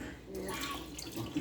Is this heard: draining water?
yes